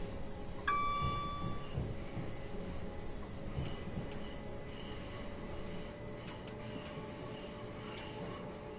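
Class 377 electric train in Train Simulator 2016 climbing a hill on a third-rail line in South London: a steady, loud rumbling drone of motors and wheels, with a brief high whine near the start and faint rattles throughout.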